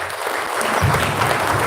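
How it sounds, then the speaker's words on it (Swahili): Applause at a memorial service for a bishop's mother, a moderate crowd clapping steadily and building slightly in fullness partway through. "Mtu akimaliza tunapiga makofi"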